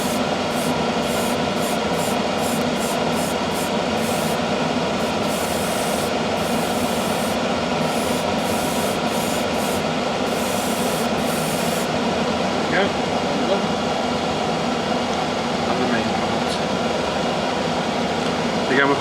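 An airbrush at higher pressure sprays paint onto a Tamiya 1/32 Vought F4U-1 Corsair model aircraft, producing a continuous close hiss with intermittent sputtering bursts early on. A steady background hum sits underneath throughout.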